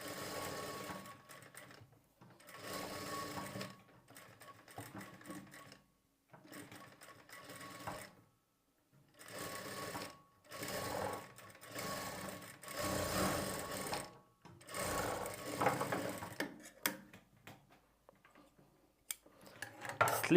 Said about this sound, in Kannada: ಇದಕ್ಕೆ ಇನ್ನೊಂದು ಹೊಲಿಗೆನ ಹಾಕ್ಕೊಳ್ಬೇಕು. ಸ್ಲೀವ್ಸ್ಗೆ ಯಾವಾಗಲೂ ಡಬಲ್ ಸ್ಟಿಚ್ನ ಮಾಡ್ಕೊಳ್ಳಿ.